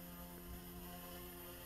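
OMP M2 RC helicopter hovering steadily: a constant, even whirring drone of rotor and motor with no change in pitch or loudness, fairly quiet and close.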